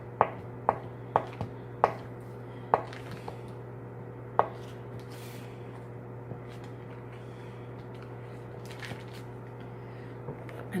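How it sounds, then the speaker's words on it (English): Knife cutting firm butter into little pieces for scones, a run of sharp, close chopping taps in quick irregular succession, thinning out to occasional soft cuts over a low steady background hum. "we're just going to cut it into little pieces"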